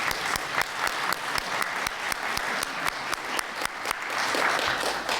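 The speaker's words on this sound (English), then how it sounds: "Budgets so rarely get applause" Applause fills a city council chamber in Ottawa, a dense steady clatter of many hands clapping at close range, holding even across the whole stretch with no voices over it.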